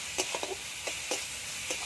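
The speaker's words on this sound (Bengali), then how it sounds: "ভালো করে নেড়ে নিতে হবে।" Papaya pieces fry in a pan with a soft, faint sizzle, broken by several light stirring scrapes and taps.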